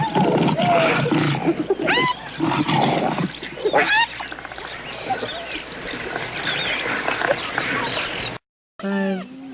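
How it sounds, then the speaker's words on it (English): Lionesses in the wild snarl and roar at hyenas that have edged too close. The growls come in repeated rough bursts, loud and near, mixed with squeals and other animal calls. "when the hyenas edge too close, all it takes is a snarl to stop them in their tracks"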